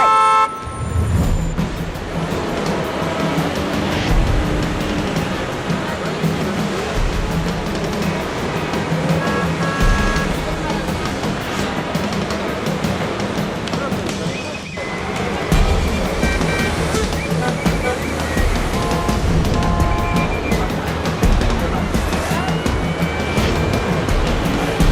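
City street traffic with a continuous loud roar of cars and scattered horn toots throughout, busy and close.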